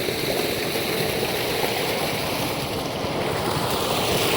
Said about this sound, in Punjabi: ਇੱਕ ਮੋਟਰ ਉਧਰ ਚੱਲ ਰਹੀ ਆ